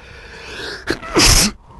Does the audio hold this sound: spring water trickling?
no